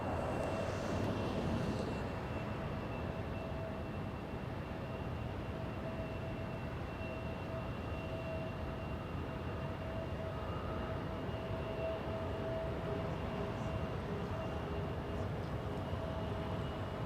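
Lufthansa LH453 airliner departing Los Angeles airport, a steady distant jet roar that holds at an even level throughout, with a faint constant whine, heard alone.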